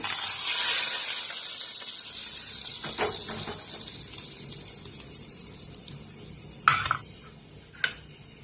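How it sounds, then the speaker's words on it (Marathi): Hot phodni tempering for Maharashtrian masale bhat, a hissing sizzle that is strong at first and then fades, with a few sharp clinks of a utensil near the end. "गरम गरम फोडणी होतोया."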